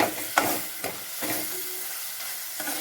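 Ingredients frying in oil in a kadai for a meal maker gravy masala, a steady close sizzle broken by several rhythmic scrapes of a spoon stirring the pan.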